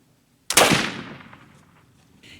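One loud, sharp crack from a gun fired with homemade black powder made from century plant, alone and close, with a long rumbling echo that slowly fades away.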